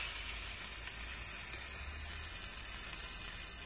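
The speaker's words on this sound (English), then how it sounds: "I can hear it sizzling in there." Food sizzles in a little oil in a pan heated to 350, a steady hissing crackle that stays even and close throughout with no voices.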